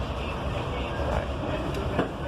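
The interior of a SAM Shortline passenger train rolls along Georgia Railroad track past an industry, a steady low rumble with faint wheel clatter and no talk.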